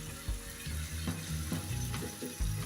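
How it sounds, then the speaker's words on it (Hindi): Tomatoes and haleem masala go into a pan of fried garlic and onion, giving a brief close sizzle with a few stirring knocks and scrapes. "अब हम इसमें डाल देंगे अपने टमाटर और हलीम मसाला"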